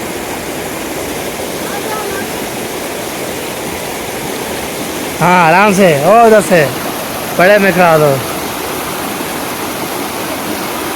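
River water pours down from above in a steady, loud rushing roar that never lets up, while people speak briefly over it.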